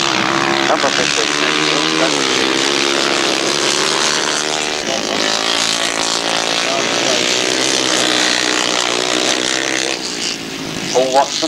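350cc grasstrack racing motorcycles at a 1991 Sussex grasstrack meeting snarl loudly and continuously as a pack, engines rising and falling through the straights in a dense, sustained roar.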